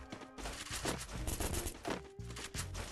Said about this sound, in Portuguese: Um tiro, um tiro aqui, um tiro.